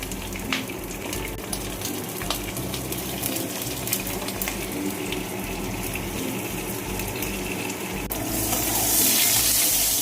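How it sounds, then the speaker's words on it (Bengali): Steady crackling sizzle of eggplant, seasoned with salt and turmeric, frying in oil, close and continuous, with the bubbling growing louder near the end. "ওই তেলের মধ্যে বেগুনটা ভেজে নেব।"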